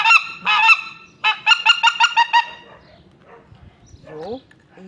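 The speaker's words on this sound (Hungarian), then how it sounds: "a következő a nagy lilik hívó" A hand-blown greater white-fronted goose call gives a short run of loud, nasal honking yelps, a pair and then a quick burst of about six, followed by a fainter squealing note near the end.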